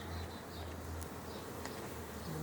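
Bees buzz steadily around a swarm trap, a dense, faint hum with individual insects flying past now and then, no talking.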